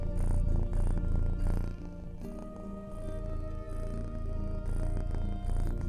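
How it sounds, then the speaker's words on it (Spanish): A female house cat purring, a steady low continuous rumble close by, running through the whole stretch with slight swells in loudness and no talk over it. "estoy con mi gatita, hago un paréntesis, es que está ronroneando"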